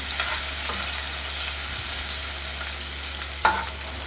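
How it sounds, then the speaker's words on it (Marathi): Chopped capsicum stir-fries in hot oil, giving a steady, close sizzle over a low hum, with one sharp scrape of the spatula near the end. "शिमला मिरच आणि याला सर्व आपण होऊ द्यायचं आहे, चांगलं मिक्स करायचं आहे याला."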